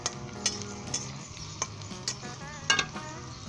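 Red chilli, cumin and ginger fry in a pan for potato bhujia, a steady close sizzle broken by sharp scrapes and clinks of a spoon stirring against the metal.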